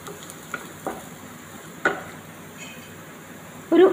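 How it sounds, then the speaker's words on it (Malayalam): Onions with turmeric, chili powder and garam masala sautéing in a pan for onion lemon rice give a soft, steady sizzle, broken by a few faint stirring taps and scrapes up close. "എന്നിട്ടിത് നന്നായിട്ട് വഴറ്റി കൊടുക്കുക."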